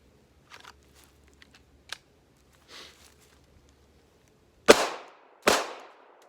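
A Canik TP9SFX pistol fired at targets from 7 yards on a range, two loud sharp shots about a second apart with ringing decay, after faint handling clicks and rustles.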